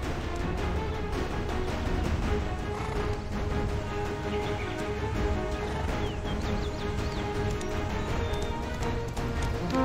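Horse hooves clip-clopping in the online role-playing game Black Desert Online, with a steady, dense run of hoofbeats under a constant wash of game ambience and music.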